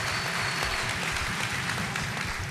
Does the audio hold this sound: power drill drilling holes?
no